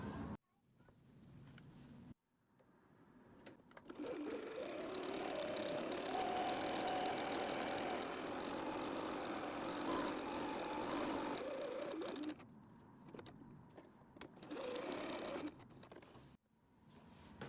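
A sewing machine stitches the long and short edges of folded windsock fabric tails, a quiet steady motor whir running for about ten seconds, with brief starts and stops around it.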